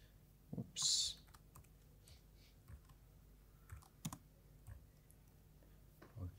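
Keys clatter on a computer keyboard in short, irregular bursts of close clicks, with a louder burst near the start, typing a command into a Linux shell.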